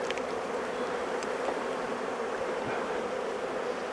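Honeybees drone steadily inside an opened Maisemore poly commercial hive during an inspection, a continuous close buzzing hum with no voices.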